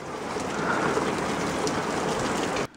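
Heavy rain sweeps in and pours down in a loud, steady hiss of drops drumming on surfaces nearby, unbroken for several seconds before cutting off abruptly at the end.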